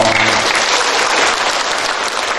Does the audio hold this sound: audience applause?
yes